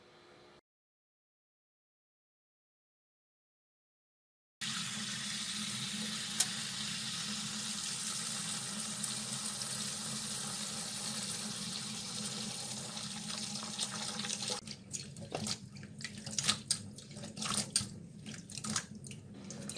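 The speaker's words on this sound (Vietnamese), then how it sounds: "Chúng ta rửa củ hành cho sạch." Tap water runs steadily into a sink as onions are rinsed clean, a close continuous splashing stream after a silent start, turning into intermittent splashes and clatter near the end.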